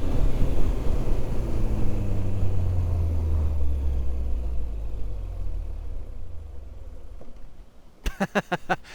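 A Kawasaki Ninja 125 motorcycle engine, cut by the kill switch in first gear, rumbles and winds down, its pitch falling as it fades, followed near the end by a short burst of rapid sputtering pulses.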